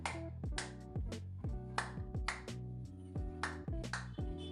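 Sharp hand claps sound at intervals near a microphone that drives a clap switch, fairly faint and set over a steady tonal hum.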